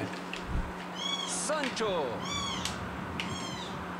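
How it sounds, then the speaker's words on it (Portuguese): A cat meows repeatedly nearby, a series of rising and falling cries, with a person speaking briefly among them and a faint football game commentary hum in the background. "O gato voltou."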